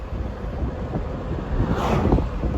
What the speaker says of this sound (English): I hope the wind rush isn't too bad.